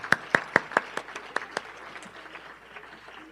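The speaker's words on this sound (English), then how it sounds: "let's give them a warm round of applause" Light round of applause at a small online or meeting-room speaker event, starting with several distinct close claps in a quick rhythm that thin out and fade to scattered faint clapping.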